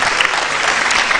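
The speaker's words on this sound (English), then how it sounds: "Let's give the 85 cents a round of applause." A crowd at a university public lecture and law clinic opening claps loudly and steadily, a dense wash of hand claps throughout with no voices on top.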